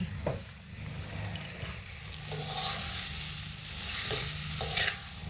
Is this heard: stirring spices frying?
yes